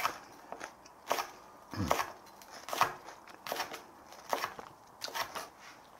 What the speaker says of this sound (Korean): 그럼 얇게 썰어져요